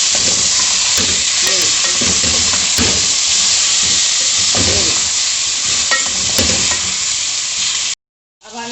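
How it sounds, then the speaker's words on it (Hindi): Chicken pieces frying in mustard oil in a handi while being stirred: a loud, continuous close sizzle and hiss with scraping stir strokes throughout, ending in a sudden brief silence before the sizzling resumes. "अब हम इसमें ये चिकन ऐड कर देंगे अपनी। चिकन ऐड करके हम इसको मिक्स करेंगे।"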